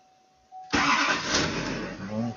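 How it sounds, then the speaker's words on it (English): A 2006 Chevrolet Silverado truck engine cranks and catches with a sudden loud burst, then settles into a close, rough idle with a brief rise in revs. "We'll start the truck."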